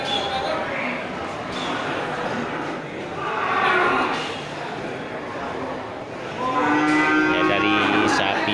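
Cattle at an Indonesian livestock market, including Bali cows, lowing in several drawn-out moos at close to mid range amid crowd murmur and speech.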